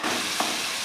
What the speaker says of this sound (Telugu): మన ఉల్లిపాయ పేస్ట్ ఉంది కదండి, ఇప్పుడు దాన్ని వేసుకుందాం ఇందులో. ఇది కొంచెం వేగనివ్వాలి.